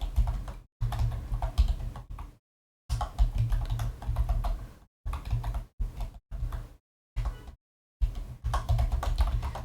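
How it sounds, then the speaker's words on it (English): Rapid clicking keystrokes on a computer keyboard come in several close, steady bursts separated by short silent gaps, with no talking. "I'm typing it out"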